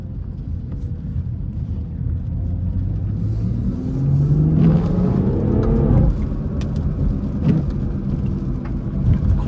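A 500hp BMW slides through a tight corner, its engine rumbling low and steady before revving up sharply mid-slide and easing back, with a deep, close, continuous roar throughout.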